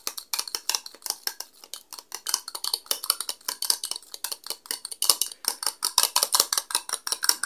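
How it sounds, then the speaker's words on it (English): Fork rapidly beating an egg in a bowl for baking rock cakes, a steady fast clatter of metal tines against the dish, close and continuous with no talk. "beat the egg"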